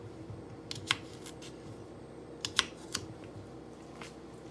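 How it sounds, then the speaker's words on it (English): A knife cutting cucumber, tomato and onion for a cucumber and king prawn salad gives a few sharp, scattered taps on the board, fairly faint and spaced out against a low background hum. "Then I'm going to cut the cucumber, tomato, and onion."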